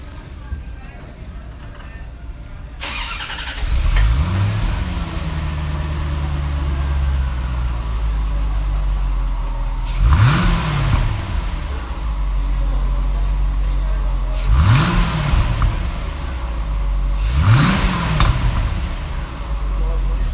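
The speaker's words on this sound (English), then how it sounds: "I'm gonna start the car up right now" A 1990 Corvette ZR1 engine cranks and fires up after a few seconds of quiet, then idles with a low rumble and is revved sharply three times.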